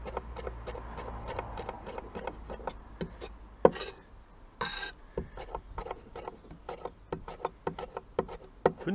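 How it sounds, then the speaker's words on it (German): Ground meat is chopped up with a utensil in a cast-iron Dutch oven, giving a rapid, irregular series of close scraping and tapping knocks against the pot. "Dann ruhig nochmal drüber hacken."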